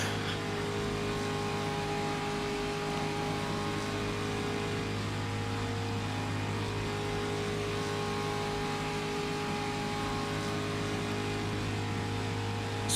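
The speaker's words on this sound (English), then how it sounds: "That Ferrari sounds mighty though, Aidan, doesn't it?" Ferrari race car engine heard from onboard during a historic racing event, a loud steady tonal drone at sustained revs with no pauses, filling the cabin without speech.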